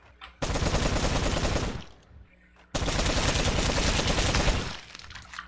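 Loud bursts of rapid automatic assault rifle fire in the zombie survival game Night of the Dead, two long sustained volleys separated by a brief lull, close and dense.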